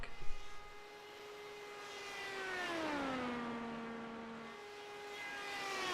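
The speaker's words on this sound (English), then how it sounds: "Next on track, you hear him whiz by, Michael Hossack." An Indy race car whizzes past on track, a faint engine whine that rises and then bends down in pitch as it passes, heard at a distance without talk.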